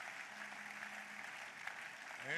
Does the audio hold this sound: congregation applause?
yes